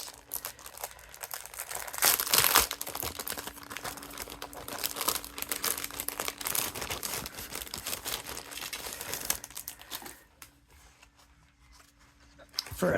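Crafting papers from an ocean-themed card kit crinkling and rustling as they are handled, a steady close papery texture running for several seconds before fading quieter near the end.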